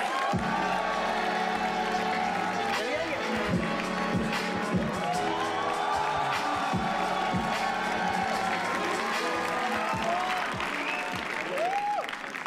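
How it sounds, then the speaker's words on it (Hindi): A stage crowd at a comedy roast show bursts into sustained applause and cheering to welcome a performer, dense clapping with whoops and shouts running steadily throughout, loud and close. "अगर आप लोग तालियां बजाएं और वेलकम करें"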